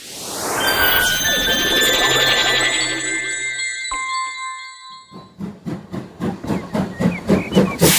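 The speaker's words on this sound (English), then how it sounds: "Robin and Daisy see a train driver and a train." A steam train lets out a loud, sustained hiss of escaping steam that fades, then breaks into a rising series of rhythmic chuffs as the locomotive starts moving.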